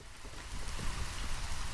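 Steady rain falls in the video game Against the Storm, a dense, even hiss of drops with no talk.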